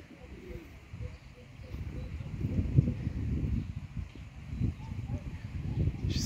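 Pigeons in a garden coo softly in low, rolling calls that repeat throughout, fairly faint and close, with a little outdoor background noise.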